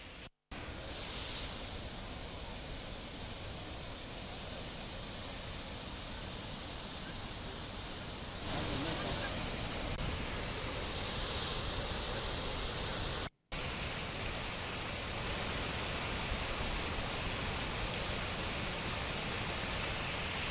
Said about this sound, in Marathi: सोमेश्वर धबधबा देखील पूर्णपणे प्रवाहित झाल्याचं आपण दृश्यांच्या माध्यमातून पाहतोय